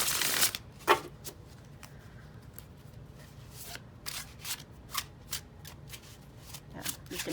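Linen-finish M&A Rider-Waite tarot cards are shuffled by hand, giving close, crisp riffling and repeated papery flicks in short bursts, fairly quiet and with no speech.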